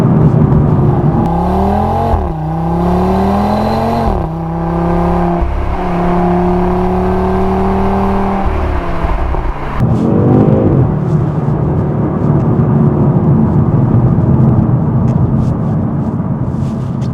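2026 Audi RS3 accelerating hard out of a corner in second gear, engine revs climbing in loud rising sweeps with quick gear-change dips. A throaty burst follows, then a sustained roar with road and wind noise from inside the cabin.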